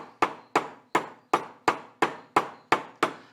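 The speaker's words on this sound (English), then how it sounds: "I use my big punch and my ball peen hammer, and I start tapping these in." A ball peen hammer strikes a big steel punch to drive bearings into a 1973 Larson boat's Mercruiser 120hp parts, nine sharp evenly spaced metallic taps at close range, each ringing briefly before the next.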